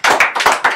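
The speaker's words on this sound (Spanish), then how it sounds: "a despedir a nuestros invitados con un fuerte aplauso" Short loud burst of hand claps, about four quick slaps close by, sending off departing guests at a small theatre show.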